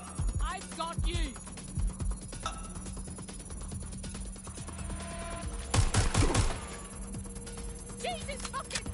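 Video game gunfire in a GTA 6 shootout, a dense run of rapid shots with a heavier burst near the middle, mixed with game voices and background clutter throughout.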